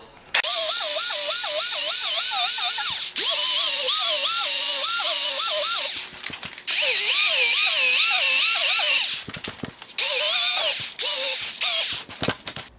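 A drill-driven wheel rubbing against a freshly glued repair on a reupholstered square-body truck seat, whining loudly in steady wavering bursts with short pauses and a few sharp clicks between runs.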